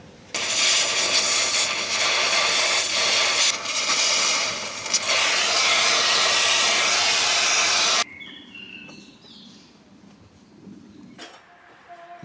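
A welding torch works on a car exhaust pipe in a steady, loud roaring hiss for about eight seconds, then cuts off, leaving quiet background with a few faint chirps and clicks.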